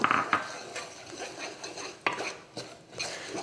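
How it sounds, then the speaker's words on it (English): Metal scraping and clinking in a pot as nuts are stirred into boiling syrup, with a few sharper knocks spaced irregularly, close and moderately loud. "I'm just gonna mix that up."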